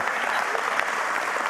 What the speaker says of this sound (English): Give the contractors a round of applause.